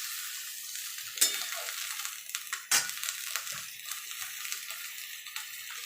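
Water goes into a pan of simmering fish curry with tomato and spices, bringing a steady close sizzle and bubbling, broken by a couple of sharp metallic clinks from a utensil against the pan.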